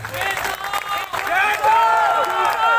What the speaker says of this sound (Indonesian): Tepuk tangan untuk Ketua Umum kita.